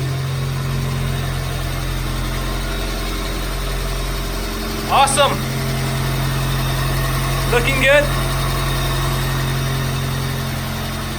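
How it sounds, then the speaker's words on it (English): A 1993 Pontiac Sunfire engine idles with a steady low hum and faint vibration, continuous throughout, while a person briefly speaks twice over it. "Looks like the car is just running fine."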